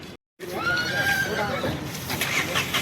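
A horse of the Dongri breed at a busy horse market gives a loud, close whinny with a wavering pitch, then background crowd chatter and voices continue.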